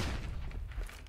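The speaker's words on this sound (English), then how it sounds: "Flashbang!" A flashbang grenade in a shooter video game bursts with a dull boom at the start, followed by a brief rumbling tail and faint scattered clatter, with no talking.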